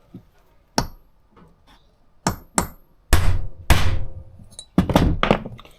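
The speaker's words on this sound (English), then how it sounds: "Right, metal hammer." A metal hammer strikes a Triumph Stag's Stromberg carburetor several times at uneven intervals, sharp ringing taps growing louder toward the end, close and without talk.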